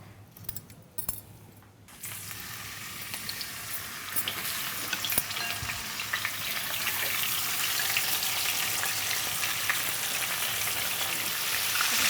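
Rohu fish sizzles in hot oil in a home kitchen pan, a steady, loud crackling hiss that builds after a quieter start and keeps going without pause. No voices.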